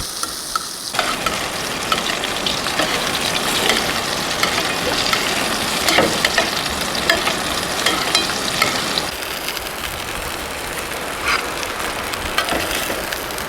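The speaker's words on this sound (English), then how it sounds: "Go ahead and baste that butter right on the fish." Fish fries in butter in a pan at a campsite while butter is basted over it, producing a steady, close, busy sizzle with frequent spitting crackles and scraping pops.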